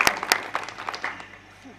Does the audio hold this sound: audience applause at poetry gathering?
yes